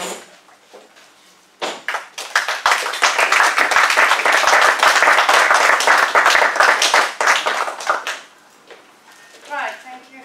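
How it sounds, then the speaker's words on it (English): Applause at a meeting breaks out after a brief voice, a roomful of hands clapping loudly and steadily for several seconds before fading, with talk resuming afterward. "Can we have another round of applause?"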